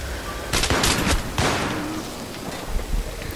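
Gunfire in the video game Battlefield 3: loud, close rapid bursts of automatic fire, two main volleys then scattered shots, with no voices.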